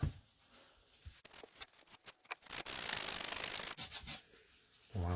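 A cloth rubs back and forth over laser-engraved stainless steel, producing scratchy, uneven scrubbing strokes with short pauses and one longer, sustained stretch of friction noise at close range.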